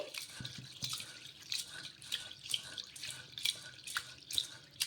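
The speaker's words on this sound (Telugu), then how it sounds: "ఈ పెసరపప్పుని ఒక రెండు సార్లు అయితే కడిగేసుకోవాలి" Moong dal washed in water in a bowl: close, repeated splashing and sloshing in uneven bursts, with droplets trickling between strokes and no voices.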